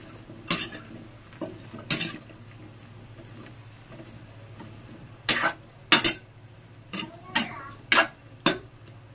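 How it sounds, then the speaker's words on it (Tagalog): Vegetables for pinakbet stirred in a cooking pot, giving a string of sharp utensil scrapes and clanks against the metal in irregular bursts, close and fairly loud over a low steady background hum. "Haluin po natin."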